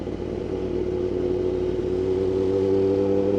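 A motorcycle engine held at high revs, a steady loud exhaust drone that rises slightly in pitch, close up, with no talking.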